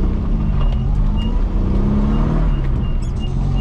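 A Moskvich 2140 car engine runs steadily after being restarted, a loud, close, continuous low rumble with no talking over it.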